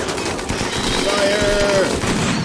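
Gunfire in the colony-building game RimWorld crackles in a dense, steady stream of small shots, with a voice talking over part of it.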